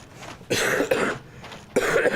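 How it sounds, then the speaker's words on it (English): Three harsh coughs close to the microphone, spaced apart with short pauses between them. "coughing so much."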